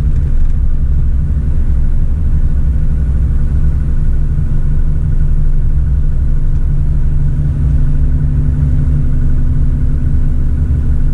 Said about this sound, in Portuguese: vamos tentar descer toda ela sem pisar no pedal do freio. Somente no freio motor.